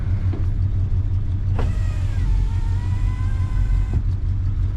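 A 1968 Chrysler Imperial with its 440 engine rumbles loudly and steadily, swelling into a strong rev with rising tones midway before easing back to a deep idle; no voices are heard.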